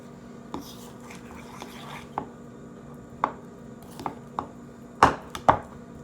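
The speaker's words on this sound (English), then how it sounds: "Just keep mixing" A utensil knocks and scrapes against a bowl while birthday cake batter is mixed, giving irregular sharp taps that grow louder and clustered toward the end over a quiet background, with no talk.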